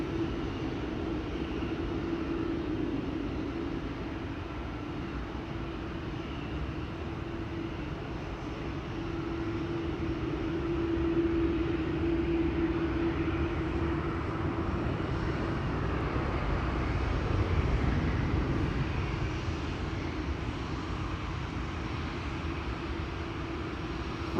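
A Lufthansa Airbus A320 in Star Alliance livery departs Amsterdam Schiphol for Frankfurt, its jet engines giving a steady, broad roar that holds for the whole stretch and swells slightly midway, with no talk over it.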